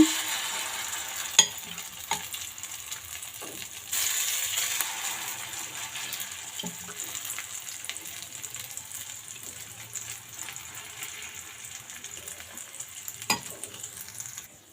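Maggi noodle and egg omelette batter frying in hot oil in a pan, a steady soft sizzle throughout with a few sharp clinks of a spoon or ladle against the pan.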